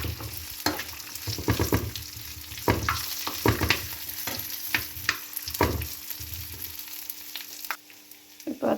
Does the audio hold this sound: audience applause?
no